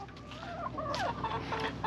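Chickens clucking steadily on a farm in Northeast Ohio, several birds close by, with repeated short calls over a low outdoor background and no talking.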